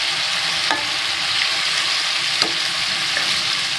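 Water added to a frying pan of ampalaya with tofu sets off a steady, loud sizzle and bubbling throughout, with a couple of brief clinks of a utensil against the pan and no talking.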